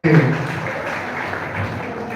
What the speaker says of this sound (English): Your clap is just so short.